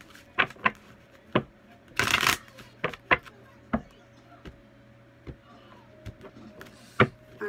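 Oracle cards shuffled by hand at close range, sharp irregular snaps and riffles with one longer dense burst of shuffling, no speech.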